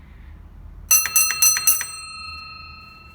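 An old railway signal box block shelf apparatus bell strikes four quick, sharp dings in a row, close and clear, then rings out with a long fading tone in a quiet room.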